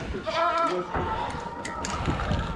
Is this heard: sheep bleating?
yes